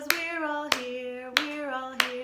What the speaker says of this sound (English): Let's all clap 'cause we're all here